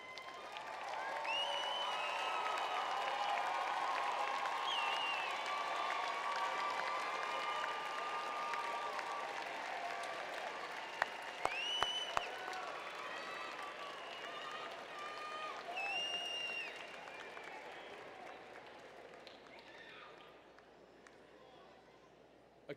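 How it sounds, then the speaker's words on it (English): Applause from a large audience of graduating students and guests at an outdoor university public health commencement, a broad sustained wash of clapping from a distance that slowly fades out near the end. "Graduating students, please stand and give those people, those support structures, those teachers a round of applause."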